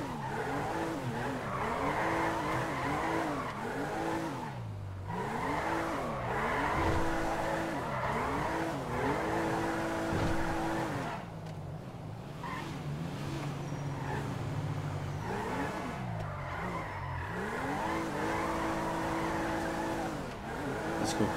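A car in GTA 5 drifts with long, wavering tire squeals that rise and fall repeatedly over a droning engine, loud and continuous, with brief gaps between slides.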